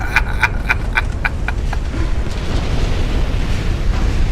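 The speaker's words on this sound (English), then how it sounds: "They call that a torpedo." A torpedo explosion in the naval warfare game Ultimate Admiral: Dreadnoughts comes through as a loud, sustained rumbling roar, with a rapid series of sharp metallic clanks at the start that fade away over the first two seconds.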